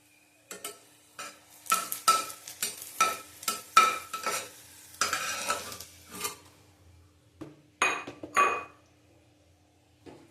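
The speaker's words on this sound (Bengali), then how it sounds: "দেখো এবার নিম পাতাটা ভেজে এই এক পাশে রাখবো" Neem leaves frying in a pan give off bursts of sizzling crackle with stirring scrapes, coming in uneven waves with short quiet gaps, close and moderately loud, no talking.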